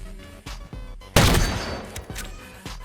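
A sniper rifle fires once in an Xbox game during a sniper duel, a loud sharp blast with a trailing rumble that stands out over quiet background game sounds.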